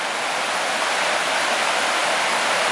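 A small waterfall on a river gives a loud, close, unbroken roar of rushing water that stays steady throughout, with no other sounds.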